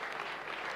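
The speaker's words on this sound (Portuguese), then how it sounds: "Vamos dar uma linda salva de palmas para Jesus Cristo." Brief burst of congregation applause in a church, a soft continuous wash of clapping heard only for a moment.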